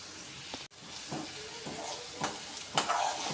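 Tomatoes fry in oil in a pan for mutton curry, a soft continuous sizzle broken by a few scraping stirs of the spoon, close up and fairly quiet.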